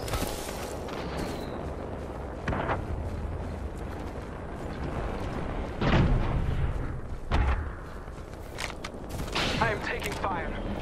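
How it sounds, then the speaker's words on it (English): Gunfire in the video game Apex Legends, with several loud bursts and impacts of shots rising out of a dense, continuous battle din, while game voice lines speak over the action. "I am taking fire."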